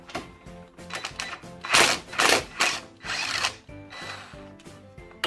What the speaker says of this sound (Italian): andiamo a togliere il dado da 17. Io utilizzo sempre la pistola per comodità.